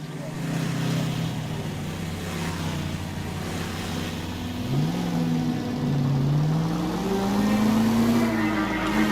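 A car driving in the video game L.A. Noire, a steady mid-pitched engine hum that rises and wavers as it accelerates and shifts, continuous and fairly close with no talk.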